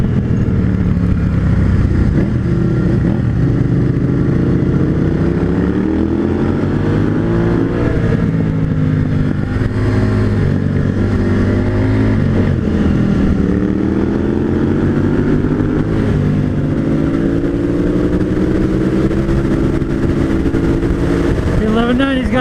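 A motorcycle on Motoz Tractionator Desert H/T dual-sport tires runs along a twisty road, its engine droning steadily throughout with shifting revs under constant wind rush.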